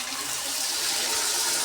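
Water mixed with spices is poured into a pan of fried hilsa fish for mustard hilsa curry. It makes a steady, close rushing splash that lasts throughout, with no voices.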